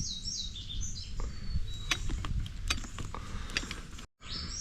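A grease gun pumps grease into a front caster wheel assembly on a Wright Stander X mower, with a run of squeaky, creaking mechanical strokes close by, then a brief drop to silence near the end.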